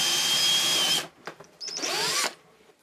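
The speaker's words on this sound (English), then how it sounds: "I'm drilling a hole large enough for the screw to pass through in the end cap." A power drill whirs steadily for about a second, stops, then after a few faint knocks starts again briefly, bearing down as it bites into a reclaimed-wood end cap, boring a screw hole.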